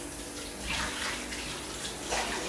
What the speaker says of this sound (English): Cold water in the bowl.